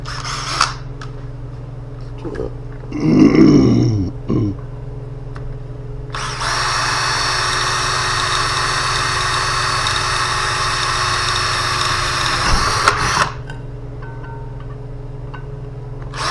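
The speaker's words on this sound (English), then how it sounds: "see if I can drill these here instead of setting the drill press up" A handheld power drill bores parts for a nitrous fuel pump install in a workshop, a loud steady high whine lasting about seven seconds after a brief rough start, over a constant background hum.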